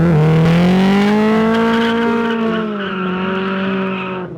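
A classic Mini fitted with a Honda B18 VTEC engine accelerates hard, its engine note climbing loud and close as the revs rise before easing off at the end.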